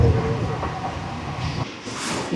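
An AirTrain pulls into Jamaica train station with a steady rumbling hum and a rising hiss near the end. The sound is moderately loud throughout the short stretch.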